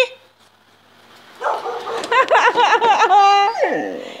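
A chubby puppy gives a run of quick, high yipping barks and whimpers close by, rising into rapid, rhythmic yaps before trailing off into a whine, with a quiet pause before the barking begins.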